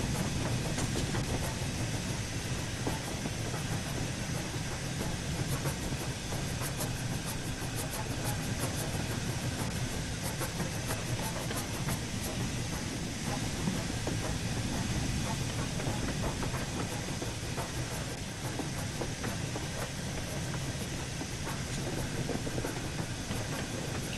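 Trains at Minehead Station on the West Somerset Railway make a constant, broad rumble and hiss of rolling stock and engines, loud and steady throughout with faint clattering.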